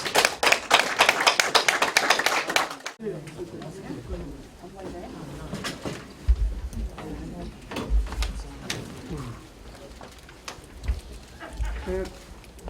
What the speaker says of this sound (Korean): 우리 박수로 모든 순서를 끝내겠습니다.